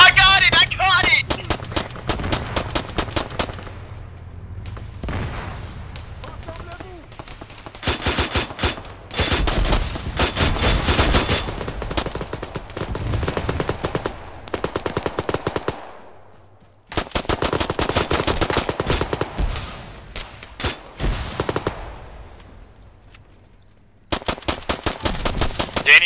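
Machine gun fire rattles in the military video game Arma 3, loud rapid bursts repeating in clusters with short lulls between them, while players talk over the action.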